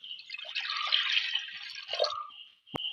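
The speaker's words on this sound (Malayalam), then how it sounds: "വെള്ളം ഒഴിച്ചു കൊടുക്കുക" Water poured into a cooking pot with small onions and garlic, a close, bright trickling splash for about two seconds that tapers to drips, then a single sharp knock.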